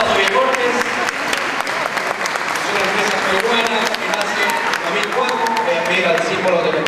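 A crowd at an awards ceremony applauds a distribution company receiving recognition, loud continuous clapping from many people with some voices mixed in, steady for the whole stretch.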